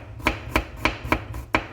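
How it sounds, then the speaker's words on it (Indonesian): Garlic is chopped with a knife on a cutting board, six crisp, evenly spaced chops close by, with no voices. "ini bisa dicincang ataupun digeprek aja"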